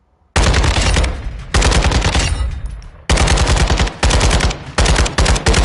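Automatic weapon fire in the shooter game Modern Warfare 2: loud, close bursts of rapid shots in several long strings separated by brief pauses, ending in shorter taps.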